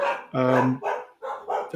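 A dog barks four or five times in quick succession, close and loud, sharp yaps with brief gaps between them, with no talk over it.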